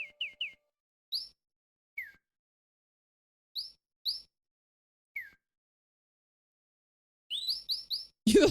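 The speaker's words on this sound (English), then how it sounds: "You thought there was chirping in your room?" Birds in the King's Quest IV game chirp in short, clean high tweets, first sparse and scattered, then a quick run of several chirps, ending in a brief noisy burst.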